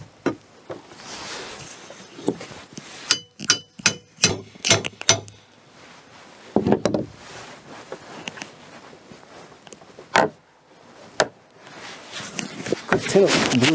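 A claw hammer drives a large nail in a rural woodworking shop, giving a quick run of sharp, loud metallic strikes with some isolated blows after it, close to the listener and alternating with someone talking.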